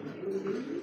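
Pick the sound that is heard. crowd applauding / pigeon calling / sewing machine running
pigeon calling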